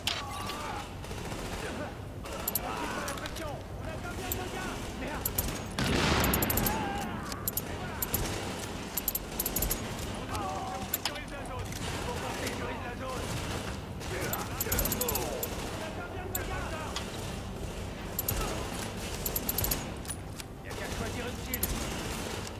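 A firefight in the video game The Division, with scattered gunshots and mechanical clatter running throughout at moderate level, mixed into a dense game soundscape with a voice speaking over parts of it.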